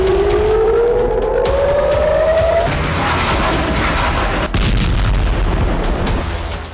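A ballistic missile is intercepted in the sky over Israel by air defense. A rising siren-like whine gives way to loud, rolling explosive rumble and sharp bangs, continuous and close.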